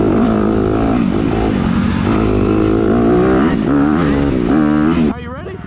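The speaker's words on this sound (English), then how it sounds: "I love riding dirt bikes." Dirt bike engine in the MX Bikes motocross video game, revving and rising and falling in pitch continuously, loud and close, before dropping off abruptly near the end, with a voice talking over it.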